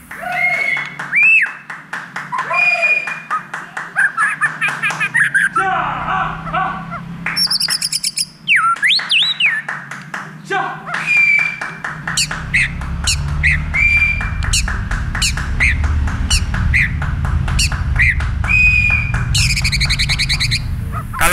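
A white-rumped shama sings loudly and close, with varied whistles, rapid chattering trills and harsh calls, continuing throughout against a low background hum.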